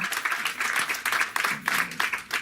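Applause from an audience at a gathering celebrating Black women, dense and steady clapping close by, swelling in a few bursts over a couple of seconds with no voices on top.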